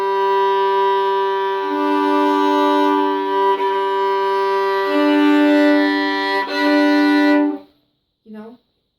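A violin chord bowed across two strings rings out as a sustained, steady double stop for several seconds, then cuts off, followed by a short plucked or bowed note, played alone.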